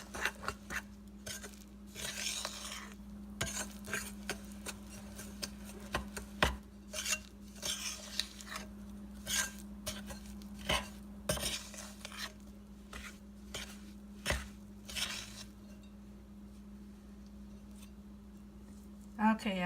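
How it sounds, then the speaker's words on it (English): Cake mix for a cherry cobbler is stirred in a bowl, giving irregular knocks and scrapes of a utensil against the dish over a steady low hum, with a person talking at times. "And we're just going to mix that up."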